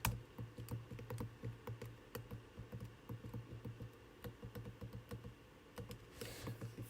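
Rapid clicking of computer keyboard keys pressed for a Ctrl+D duplicate shortcut while making memo pad designs, a steady run of close, quiet taps with no talking.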